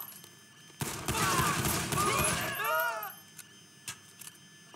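Burst of rapid gunfire in the video game GTA V, a loud, dense stretch of overlapping shots lasting about two seconds, followed by a few scattered fainter pops.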